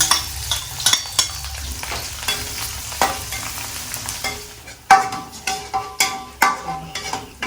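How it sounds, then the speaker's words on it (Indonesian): Spice paste hits a hot frying pan and sizzles steadily, with repeated scraping stirs and clinks of a utensil against the pan, loud and close, with no voices over it. "Sekarang giliran bumbu untuk tampil. Silakan masuk penggorengan."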